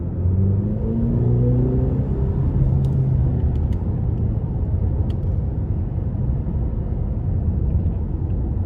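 A 2021 Cadillac CT5 Premium Luxury with the 2.0 engine cruises down a back road, giving a steady, loud low rumble of engine and road noise throughout, with no talking.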